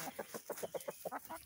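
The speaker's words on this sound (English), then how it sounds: "You pretty chickens want to go outside?" Chickens clucking close by, a quick series of about a dozen short, soft clucks in an uneven rhythm, fairly quiet and with no talking.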